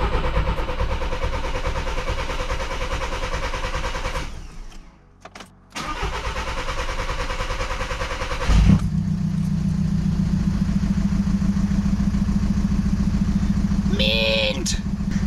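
A modified MK6 GTD 2.0 TDI diesel with new injectors cranks for several seconds, catches and settles into a loud, rough, lumpy idle, close up, with a brief voice near the end.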